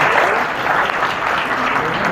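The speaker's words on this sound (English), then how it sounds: "can we get a round of applause for them?" Conference talk audience breaking into a brief burst of applause, loud and continuous clapping from a roomful of people, alone without talk.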